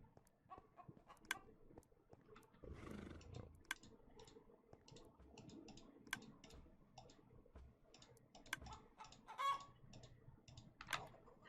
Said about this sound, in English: Hi, chicken.